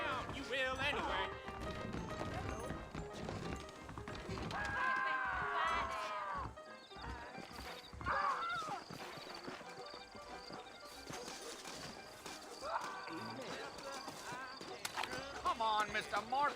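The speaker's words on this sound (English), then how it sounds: "I got the horses saddled up and ready out front." Saddled horses trot with steady clip-clop hoofbeats and let out occasional whinnies in the Western video game Red Dead Redemption, while characters keep talking over the hooves throughout.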